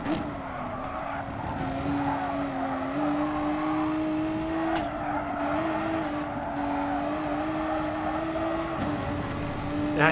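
Electric Tesla Model S driving in Gran Turismo Sport, a steady whining drive tone that rises and shifts slightly with tire noise and road rush, continuous and close throughout, no speech.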